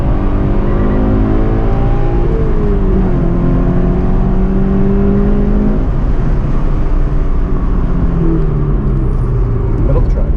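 A race car on the Summit Point track drones loudly throughout, its engine pitch climbing and shifting as it accelerates, heard from inside the car with occasional talk underneath.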